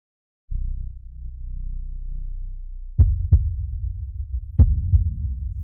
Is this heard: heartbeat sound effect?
yes